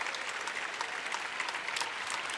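A crowd applauds at a professional volleyball match between the Supernovas and Columbus Fury: dense, continuous clapping filling an indoor arena, moderately distant and steady throughout.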